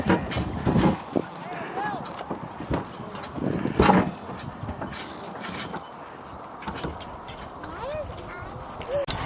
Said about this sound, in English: These horses are so big.